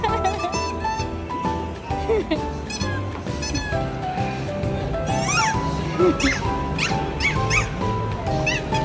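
A corgi whimpers and yips in high, wavering cries amid a busy, noisy dog show background with people talking nearby.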